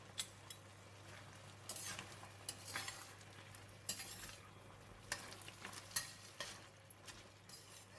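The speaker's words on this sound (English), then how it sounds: "now I'm going to put in the tomato, pineapple, stir in the garlic that we cooked just now" Tomato, pineapple and garlic are stirred in a pan over quiet frying, with irregular utensil scrapes and clinks against the pan throughout; no voices are heard.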